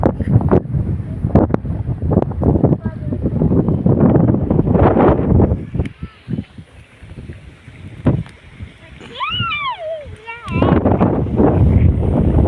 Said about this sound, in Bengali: দীঘার মতো ঢেউ, প্রচুর বাতাস, দীঘার মতো ঢেউ উঠছে।